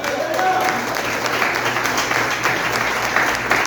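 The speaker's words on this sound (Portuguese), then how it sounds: "Só os que crê, aplaude o Senhor." A church congregation at a family worship service applauds, producing dense, steady, close clapping from many people, with a low murmur of voices blended in.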